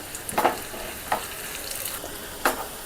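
Dried red chilies fry in hot oil in a pan, giving a soft sizzle broken by three short bursts of stirring, faint and close with no voices.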